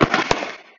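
Final firework shot of a family display, a quick burst of crackling pops with one louder crack partway through, fading out fast.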